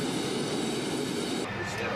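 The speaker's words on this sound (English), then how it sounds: "Give it a little more gas to help the engine come up to speed quicker." Aircraft engine running steadily and loud close by after a carburetor adjustment, a broad roaring drone with a constant tone, its upper hiss dropping slightly near the end.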